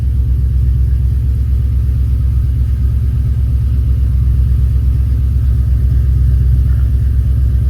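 A car engine running on standalone EFI idles at about 1000 RPM, a loud, steady low rumble with an even pulse and no change in pitch, close by and with no talking.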